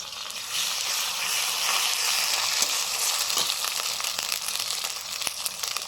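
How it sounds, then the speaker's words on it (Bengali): Biryani spice paste of garlic and ginger with red chilli powder fries and is stirred in a pan with a little water, a steady close sizzle with scattered scraping and clicking from the spoon. "একটু জল দিয়ে মশলাটা কষে নিচ্ছি"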